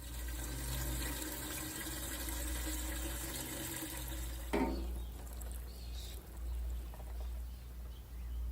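Eggplant seedlings under protective netting in a garden get watered, a steady wash of running and splashing water close by, shifting partway through to a softer, more scattered trickle.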